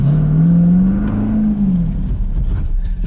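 A Chevrolet C8 Corvette with an aftermarket exhaust system accelerates, its deep, mellow engine note rising steadily in pitch, then easing off and fading, close and alone.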